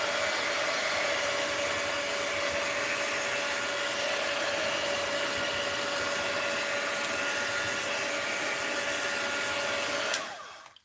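A hair dryer blows steadily on a freshly worked art journal page, a loud, continuous close whoosh with a constant whine that holds for about ten seconds before switching off and winding down.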